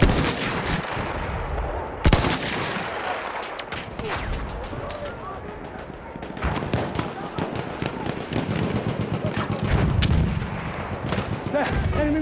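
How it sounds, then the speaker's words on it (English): Enemy machine gun fire in Battlefield 1, rapid bursts and artillery-like booms mixed with scattered gunshots across the battlefield, moderately loud, with shouted voices at times. "There! Enemy machine gun!"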